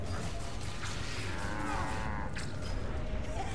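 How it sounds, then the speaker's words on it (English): Cattle mooing in the Guild Wars 2 game world, drawn-out lowing calls rising over a dense, noisy backdrop of game ambience, with no talk. "I heard cows."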